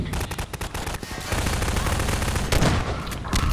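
Rapid bursts of weapon fire from the Half-Life 2 video game, loud, close and overlapping, with a heavier blast near the middle.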